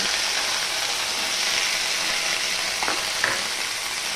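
Grated pumpkin fries in hot oil over a spice tempering, making a steady, close sizzle with a couple of brief scraping stirs near the end and no talking.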